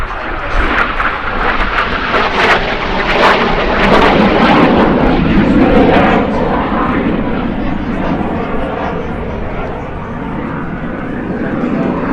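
An F-86 Sabre jet fighter performs a flying display at an air festival, its engine roar loud and sustained throughout with broadband rumble that swells and slowly fades, a voice speaking faintly underneath.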